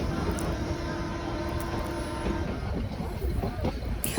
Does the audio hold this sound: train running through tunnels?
yes